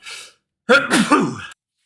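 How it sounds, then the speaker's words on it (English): A single loud, close sneeze from a man building a 1:8 scale VW T1 Samba model, preceded by a short sharp intake of breath, then a burst that ends abruptly in silence. "an inadvertent demonstration of the sneezing fits I've been having"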